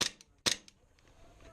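Airsoft gunfire during a skirmish game: two sharp, close cracks about half a second apart, each followed by a brief faint echo, with no talk over them.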